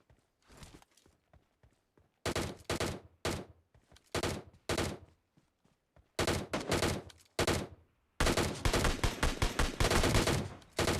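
SKS rifle gunfire in PUBG rings out in loud, rapid bursts of shots separated by short pauses, with a long sustained volley near the end.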